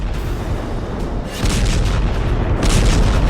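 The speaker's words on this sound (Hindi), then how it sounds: "ईरान के मिसाइल लॉन्चर साइट पर धमाके" Bombing explosions hit Iranian missile launcher sites in an airstrike, giving a loud, continuous rumbling roar that surges twice with heavier blasts, with no voices.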